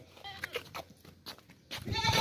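Goats bleat repeatedly on a farm in Pakistan, the calls overlapping with rustling and background animal noise, growing louder toward the end.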